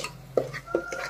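A spoon stirs a masala mixture for a prawn curry in a pot, giving two distinct clinks against the metal at a slow pace, with a soft scraping sound between them.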